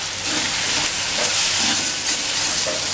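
Spices sizzle steadily in hot oil for a Bhola fish curry with potato and brinjal, a continuous close hiss of frying with no pauses and no voices.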